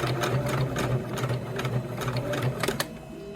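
A sewing machine stitches a cork pumpkin coaster with thread, its rapid rhythmic needle chatter steady and close, with a few sharper clicks near the end.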